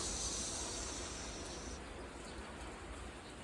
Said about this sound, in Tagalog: Grabe ang ulan, no?